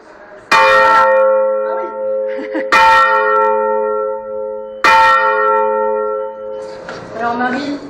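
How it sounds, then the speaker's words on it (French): Church bell in a belfry struck by pulling the rope, three loud ringing strikes spaced about two seconds apart, each decaying with a long tonal hum, with faint voices between them. "comme on peut voir dans les films, on tirait pour actionner la cloche."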